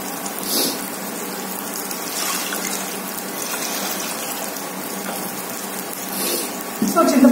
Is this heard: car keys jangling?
no